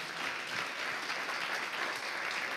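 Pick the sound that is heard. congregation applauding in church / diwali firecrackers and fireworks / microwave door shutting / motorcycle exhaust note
congregation applauding in church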